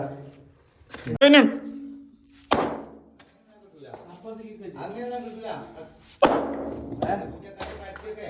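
A hammer strikes and breaks rock, three sharp, heavy blows spaced a few seconds apart, close and loud, with people talking loudly between the hits.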